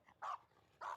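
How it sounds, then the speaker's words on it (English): Dogs bark twice, each a short, faint yelp separated by a brief pause, heard at a distance outdoors with no talking. "excuse the dogs"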